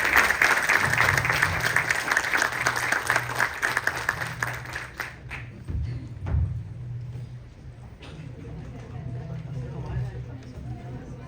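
A live audience applauds a discussion panel at a book presentation, loud dense clapping for about five seconds that then thins into scattered claps and murmuring, with a hum running underneath.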